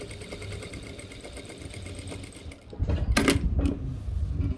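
Sewing machine stitching cargo pants fabric, a steady mechanical whir with a louder, busier burst of running in the second half, close and alone with no talk.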